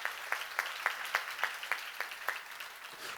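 A church congregation applauds in unison at a sermon, a rhythmic series of about ten sharp synchronized claps, evenly spaced and moderately distant.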